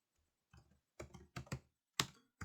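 Keystrokes on a computer keyboard while entering a database query, coming in short separate bursts of a few quick clicks with pauses between, close and fairly clear in a quiet room.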